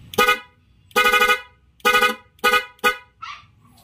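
A loud PIAA car horn wired with a relay interrupter honks five times in short bursts, close by, with brief pauses between each blast and a faint tail at the end.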